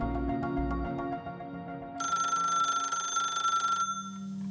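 A telephone rings in a home, its bright electronic ringtone sounding continuously for about two seconds, clear and alone, after a quieter lead-in.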